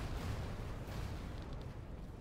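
Dense, continuous rumbling blasts and booming bursts fill the whole stretch, loud and unbroken, like a chain of explosions going off nearby, in the video game Chained Echoes during the Godfrey boss fight.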